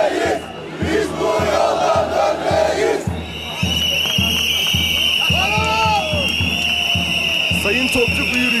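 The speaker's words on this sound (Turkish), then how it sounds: "Sloganlar da tabii bir yandan atılmaya devam ediyor." A workers' crowd at a May Day march in Çankırı chants slogans in loud rhythmic unison, with steady pulsing beats and a shrill whistle-like tone ringing over the dense crowd noise.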